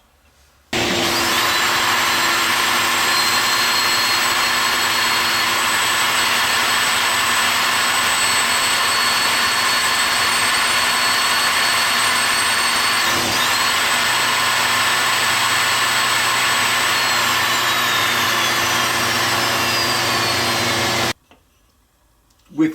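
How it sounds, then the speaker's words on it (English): A small ruby carver bit in a power carving tool shapes the face of a wooden Santa ornament, giving a steady, loud, high-pitched whine with a grinding hiss that runs almost without a break and then cuts off abruptly. "So we're going to change our bit to a small ruby carver"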